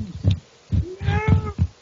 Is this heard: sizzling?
no